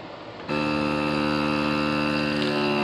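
A vacuum sealer pulls the air out of a plastic bag of meat. Its motor switches on abruptly and holds a loud, steady buzzing hum with a tonal whine until the end.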